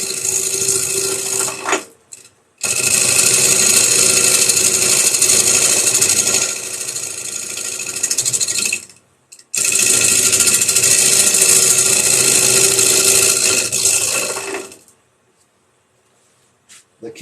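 A mini wood lathe turns a bowl as a gouge cuts, a steady broadband scraping hiss running in two long sustained passes, each stopping briefly before it drops to near silence.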